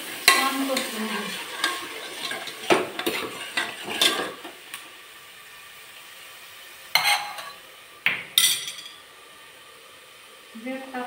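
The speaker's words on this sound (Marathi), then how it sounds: "तेल तापलेलं आहे. मसाला छान परतून घेऊ." Spice masala stirring and sizzling in hot oil in a pan for a chicken dish, with scattered spoon scrapes and clinks against the pot amid a low, steady fry.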